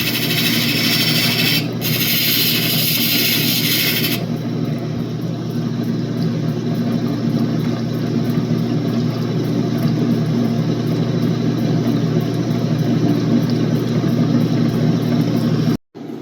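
Steady mechanical whir and grinding of a spinning pre-polish wheel working opal, loud and close, with a bright hiss that drops away after a few seconds.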